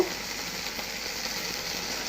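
Okra fries in a pan with a soft, even sizzle: a close, continuous hiss with no pauses and no voices.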